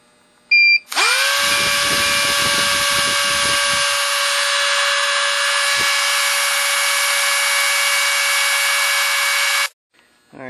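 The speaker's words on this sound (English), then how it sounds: "I just plugged in my Dremel tool here, a Black & Decker Dremel tool." A Black & Decker Dremel rotary tool whines at a high, steady pitch for about nine seconds after a brief start-up click, running loud and close, with some low handling thumps early on before it cuts off abruptly.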